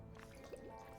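Detergent is poured into a bucket of water in the Crime Scene Cleaner game, a short, quiet wet trickle with dripping, splashy bits over a faint steady hum.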